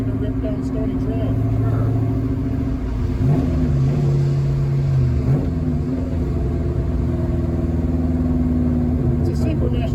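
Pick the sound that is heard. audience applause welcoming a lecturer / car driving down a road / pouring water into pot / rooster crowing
car driving down a road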